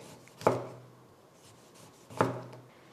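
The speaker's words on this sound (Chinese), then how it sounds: "再把这柠檬给它切成片" A lemon being cut into slices with a knife on a board, with two separate crisp thuds of the blade striking the board about two seconds apart and quiet in between.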